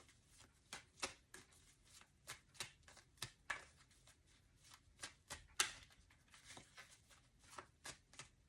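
Tarot cards shuffled by hand, a steady run of crisp riffling slaps and soft card flutters, close and fairly quiet with no talking.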